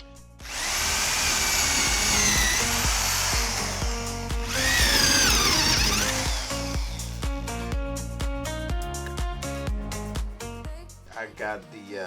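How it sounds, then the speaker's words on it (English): A power drill bores holes with a 3/8 drill bit into a running-board bracket on a Hummer H2, steady loud whining runs nearly throughout with pitch shifts as it bites, then gives way to clattering tool handling near the end. "So let's begin drilling."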